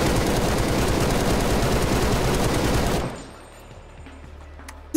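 Rapid automatic gunfire in the shooter game Stalker Anomaly with an FX mod, a dense, loud burst of shots lasting about three seconds, then an abrupt stop into quiet with a faint ringing tail and one last sharp sound.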